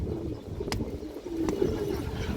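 A male red Muslodom pigeon, an old-line bird, gives low, soft cooing near the microphone, with a couple of sharp clicks in between.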